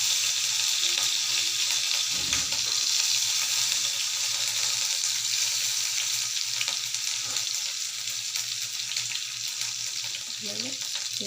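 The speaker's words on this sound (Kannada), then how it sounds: "ಎಣ್ಣೆ ಕಾದಿದೆ. ಸಾಸಿವೆ ಜೀರಿಗೆನ ಹಾಕೋತಾಯಿದ್ದೀನಿ." Mustard seeds, cumin and green chillies in hot oil produce a loud, continuous hissing sizzle close up, dotted with small crackles and a brief low knock.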